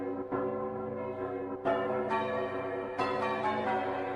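Church bells toll in the game Nier Automata, deep and ringing, with fresh strikes layering over long sustained tails in a steady, loud wash with no talk.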